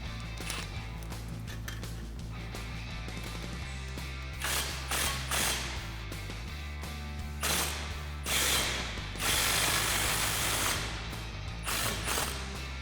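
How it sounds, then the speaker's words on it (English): A ratchet fitted with a 15mm socket tightens an exhaust clamp on a 2015–2020 Ford F-150. It gives bursts of rapid, close mechanical clicking over steady background music, with louder stretches midway through and toward the end. "snug it up with our 15mm socket so we can install the tip"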